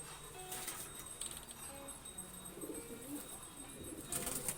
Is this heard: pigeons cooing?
yes